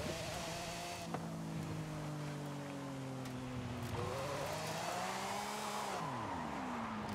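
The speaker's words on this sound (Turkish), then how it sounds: "Çok drift atıyor arkadaşlar." A car drifting in the video game Forza Horizon 5, its engine droning and shifting pitch while tires squeal in long sustained slides, close and steady throughout.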